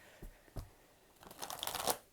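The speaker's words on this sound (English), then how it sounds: "One more shuffle here for the Geminis." Tarot cards shuffled by hand during a love reading, with two soft taps followed by a longer run of crisp riffling flutters that builds to a bright burst near the end, alone with no talk.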